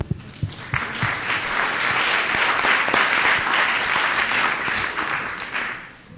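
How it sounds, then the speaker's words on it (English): An audience at an alumni event in New York applauds as a guest entrepreneur comes on stage; a few scattered claps build into full, steady applause that tapers off at the end. "Please applaud."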